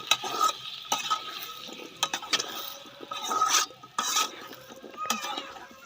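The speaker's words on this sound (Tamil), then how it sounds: "கத்திரிக்காய் உருளைக்கிழங்கு ரெண்டையும் போட்டு அதை ஒரு பெரட்டிக்கலாம்." Pieces of eggplant and potato tossed and stirred in a pan, with repeated scraping strokes of a utensil against the metal over a light sizzle, close up with no talking.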